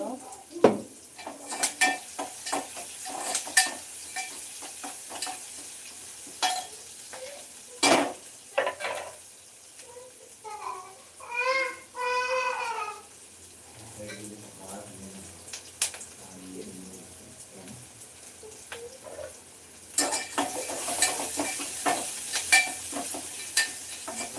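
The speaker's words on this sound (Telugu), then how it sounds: "అది ఆనియన్స్ అయితే కొంచెం రెడ్గా ఫ్రై అవ్వాలండి" Sliced onions fry in a pan for a drumstick curry, stirred with scraping and clinking utensil knocks and steady sizzling, while a voice speaks briefly partway through.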